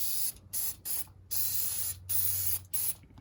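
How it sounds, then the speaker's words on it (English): Several short hissing sprays from an aerosol can of brake cleaner on a car's brakes, in quick bursts separated by brief pauses, close and loud. "just spray it with some brake clean"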